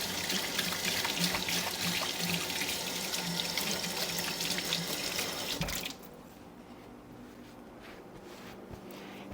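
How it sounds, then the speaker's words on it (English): Tap water runs loudly into a sink while hands are washed beneath it, a dense steady splash that cuts off sharply partway through, leaving a quiet room with faint drips and small handling sounds. "I'm going to wash my hands."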